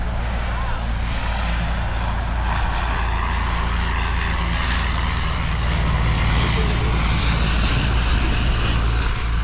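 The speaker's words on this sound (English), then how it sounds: "And here comes the plane." An airplane flies over a coastal town in the Pacific Northwest, a loud, steady engine roar that fills the whole stretch. Voices talk underneath it.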